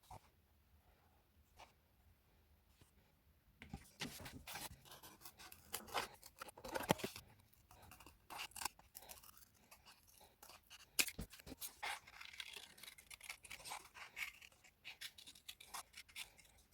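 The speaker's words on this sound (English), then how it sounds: "the next step, very obviously, is to cut out each of your circles" Scissors snip out paper circles for a handmade stamp-platform pressure tool, a quiet lead-in giving way to a run of close, irregular crisp cuts and rustles.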